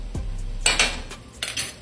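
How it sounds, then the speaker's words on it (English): Utensils clink and scrape against a dish while seasoning is mixed into pork chops with onions, a few sharp close metallic knocks and rubbing strokes separated by short pauses, with no talking. "Then we're going to mix it in really well."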